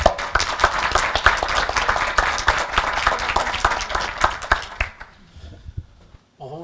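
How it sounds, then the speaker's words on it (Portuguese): An audience at a housing program event applauds a speaker with loud, dense clapping for nearly five seconds, then the claps thin out and stop, leaving near silence. "Uma salva de palmas"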